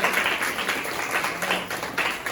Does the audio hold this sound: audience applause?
yes